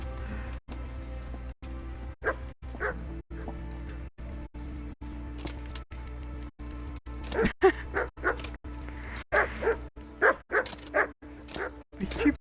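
A dog in the medieval role-playing game Kingdom Come: Deliverance barks and yips repeatedly, with whimpers and birdsong in the game ambience, and the sounds grow louder and busier toward the end. A player talks over it at times.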